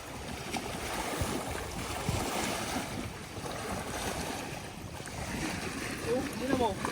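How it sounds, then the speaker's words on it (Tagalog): Waves wash against a small fishing boat on open water in Canada, a steady rushing swell mixed with gusty wind buffeting the microphone, and faint voices briefly audible. "Yung alon papunta rito."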